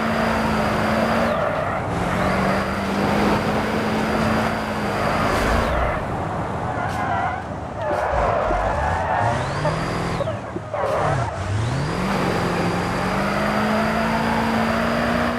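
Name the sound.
race car drifting with tires skidding in a racing video game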